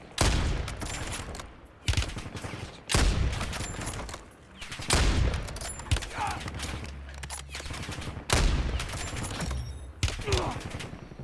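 Bursts of automatic gunfire from the video game Call of Duty: Warzone in a battle royale match, loud dense fusillades repeating every second or two with brief gaps, sharp and close.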